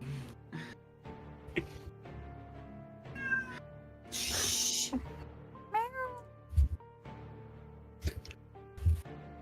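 A cat meows several times indoors, its calls rising and falling, with a brief hissing noise and a few soft thumps in a quiet room.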